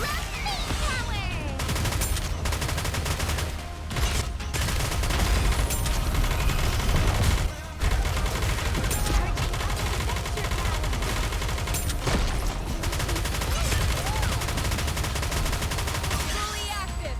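Bombardment gunfire in a video game, a dense, continuous barrage of loud shots and explosions layered over game music, with a brief dropout partway through.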